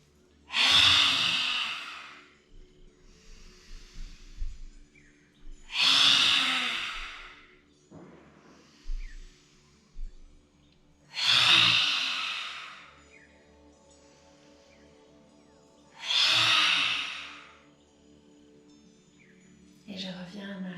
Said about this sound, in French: nous allons faire la respiration du lion. J'inspire par le nez et lorsque j'expire